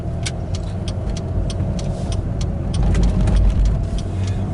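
Interior of a car driving on a city road, a steady low engine and road rumble with faint rattles and clicks, continuous and moderately loud without talking.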